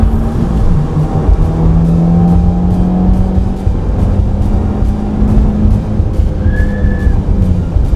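A 2015 Subaru WRX fitted with a Cobb Accessport accelerates hard in first gear. A loud, close engine drone holds steady for the whole stretch, its tone rising slightly as the revs climb, with no voices over it.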